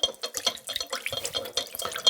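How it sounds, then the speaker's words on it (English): Lemon juice and oil dressing with salt and pepper being whisked in a bowl, a brisk run of light clinking and sloshing strokes, close and steady. "we're going to give it a good whisk to combine"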